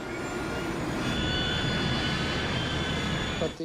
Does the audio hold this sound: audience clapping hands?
no